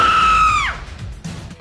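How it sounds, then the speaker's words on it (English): A loud, drawn-out burp from a world record attempt at the loudest burp, a strong tonal belch holding steady for over half a second before sliding down and trailing into quieter noise. "Loudest burp."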